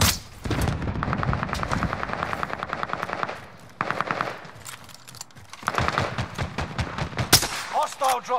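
Call of Duty Modern Warfare gunfire, bursts of rapid machine-gun fire and scattered shots loud and close, broken by brief pauses, with game voice callouts mixed in.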